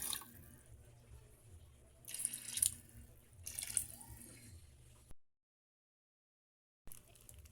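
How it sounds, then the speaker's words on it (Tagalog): Water runs from a tap and splashes into a pot for cooking a dish, coming in a few short bursts with quiet drips between, then a brief silence before it starts again. "Ilagay natin ang tubig."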